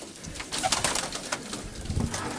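Pigeons from a Greek pigeon flock coo close by, soft repeated throaty calls mixed with light fluttering and rustling, with no talk.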